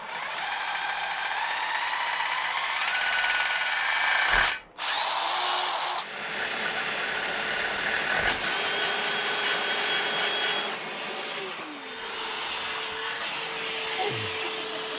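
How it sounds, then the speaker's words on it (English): A power drill bores into a brand new dirt bike wheel on a CRF250F trail bike, whining steadily and close up, pausing briefly once and changing pitch as it bites, with no talking. "It's time to go drill a hole in this brand new wheel."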